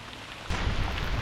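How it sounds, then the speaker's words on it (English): Heavy rain beats down on a lake during a fishing trip, a dense hiss that swells suddenly partway through and stays loud and close. "I wish it would stop raining."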